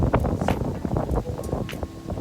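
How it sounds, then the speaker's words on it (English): Gusty beachfront wind at Rosewood Baha Mar in the Bahamas buffeting the microphone, with low rumbling bursts and scattered rustling, loud and close throughout. "It's so windy here."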